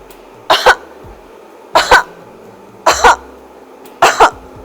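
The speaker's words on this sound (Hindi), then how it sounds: "अभी आपको 5 बार खांसी करना है। नीचे देख के खांसी करिए।" Four separate coughs, evenly spaced about a second apart, recorded close and clear against a quiet background as a person coughs on request for a voice-based COVID test.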